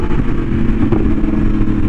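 A Yamaha R1M motorcycle with an SC Project exhaust, a loud, close and steady engine roar rich in rumbling tones that holds throughout without a break, with no talk.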